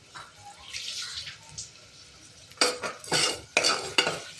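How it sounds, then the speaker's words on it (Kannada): Onions are stirred and fried in oil in a pressure cooker, with soft sizzling early on and then several loud scraping clatters of a spoon against the metal pot, close by. "2 ಈರುಳ್ಳಿ ಹಾಕ್ಕೊಳ್ಳಿ. ಚೆನ್ನಾಗಿ ಫ್ರೈ ಮಾಡ್ಕೊಳ್ಳಿ."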